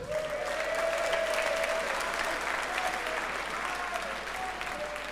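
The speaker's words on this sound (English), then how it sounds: "give yourself a round of applause if you played" Sustained applause from a large audience at a gaming LAN tournament grand final, continuous dense clapping lasting the whole stretch at steady loudness, with a faint tonal whistle or cheer riding over it.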